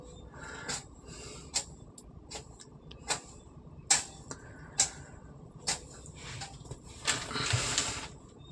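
A 3.5-finger-mesh fishing gillnet is cut in two, giving quiet, sharp snips about once a second over a low background hiss.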